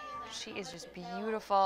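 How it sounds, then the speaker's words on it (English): A young brown-and-orange domestic shorthair mix cat at an animal shelter meows a few times, close and clear, with someone speaking over and between the calls. "you could hear her meowing in this video"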